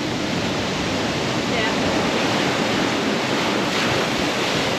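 Ocean surf surging and rushing through the Hana blowhole on the Maui coast, a loud continuous roar of churning water and spray that fills the whole span without pause.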